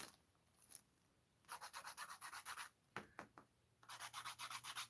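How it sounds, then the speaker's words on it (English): Rhythmic scratchy rubbing of a Derwent pencil on sandpaper, in quick bursts of strokes separated by pauses, close and moderately loud. "It's sandpaper."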